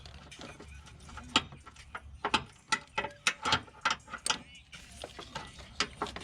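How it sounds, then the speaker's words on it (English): Transmission pan brackets being removed from a 2010 Chevy Malibu 2.4L, heard as close, irregular metallic clicks and ratcheting taps from hand tools, some single and some quick in a row, fairly faint. "he's removing the brackets."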